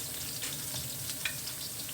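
Garlic sizzles as it fries in oil for a Thai green curry, a close, steady crackling hiss with small popping spits and no voices.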